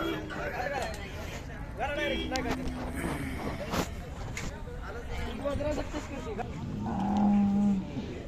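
A Khillar cow at the Sangola cattle market lows several times, drawn-out moos rising between stretches of nearby people talking amid market bustle.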